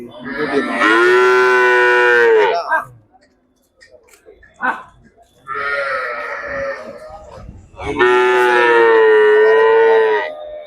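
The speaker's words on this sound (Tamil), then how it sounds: "ரெண்டு மாடு வாங்கியிருக்காங்க ஏற்றுறாங்க" Cattle at the Melapalayam cattle market give three long, loud moos in close succession, each lasting a few seconds, with quieter market noise and brief sounds in the gaps between them.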